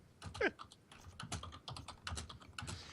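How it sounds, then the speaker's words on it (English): Rapid clicking of a computer keyboard during a podcast, uneven bursts of keystrokes close to the microphone, continuing throughout at a moderate level. "I love how you guys are typing something, yet we're in the middle of a podcast."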